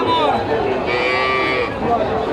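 A cow lows in one long, drawn-out moo, close and loud, at a cattle market in Dhaper Hat, Dupchanchia, Bogura, with faint crowd murmur behind it.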